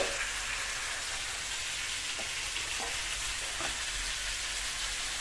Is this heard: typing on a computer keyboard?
no